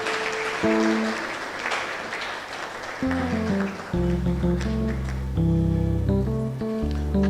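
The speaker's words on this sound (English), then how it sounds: "A round of applause." Audience applause at a prosthetics and orthotics profession induction ceremony, a steady wash of clapping that runs throughout, loud and full, with music tones playing underneath.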